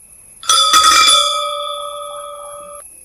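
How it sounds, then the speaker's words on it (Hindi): A loud alarm bell on a lock bursts into ringing, rattling briefly before settling into a sustained metallic tone that slowly fades over a few seconds. "घंटी जोर से बज उठी।"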